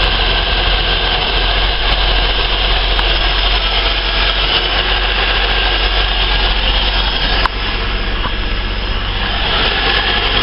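A Holden VS Commodore engine idles roughly after a cold start, a steady low mechanical drone with no talking over it.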